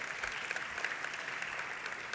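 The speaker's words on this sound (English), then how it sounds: "you should give her a round of applause" A town hall audience at a large event gives brief, fairly faint applause, a soft, continuous patter of many hands heard from a distance.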